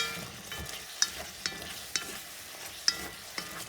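Pumpkin sautéing with salchichón sausage and sofrito in a pot, stirred with a spoon; a quiet sizzle under regular metallic scrapes and clinks, about one every half second, close up.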